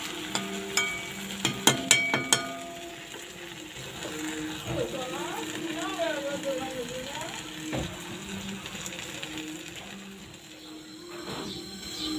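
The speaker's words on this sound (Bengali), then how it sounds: "এই যে এখন এটাকে নেড়ে একটু ভাজা ভাজা হবে" Malabar spinach seeds frying with egg in a pan, a soft sizzle under clattering, ratchet-like scraping of a spatula as the mixture is stirred, with a voice talking in the background.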